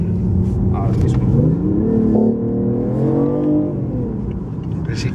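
A BMW i8 hybrid with a 1500 cc three-cylinder petrol engine and all-wheel drive, 362 hp, pulls hard at full throttle, its loud close engine note climbing steadily in pitch while someone talks over it.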